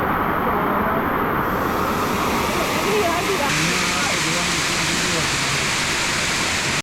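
A big monsoon waterfall in Kutch near Bhuj roars as a steady, loud broadband rush of water that fills the whole clip, with faint voices and music partly audible beneath it.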